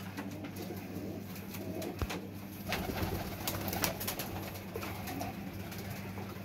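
Pigeons coo softly in a loft, with repeated low rolling calls over a faint steady hum and a few light rustles, with no talk.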